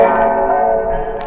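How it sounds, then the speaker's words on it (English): A single church bell rings in a full, clear peal, its loud sustained tone humming evenly and slowly fading. "experts checked the quality built into bells by ringing them"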